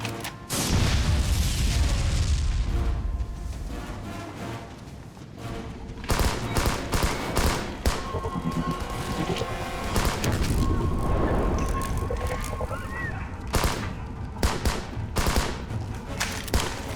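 Battleship cannons firing at will on smaller ships, heard as a dense barrage of heavy booms and rattling blasts that rolls on almost without pause, loud throughout.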